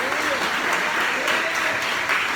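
Church congregation applauding during a sermon, a dense continuous wash of clapping throughout, with voices mixed in.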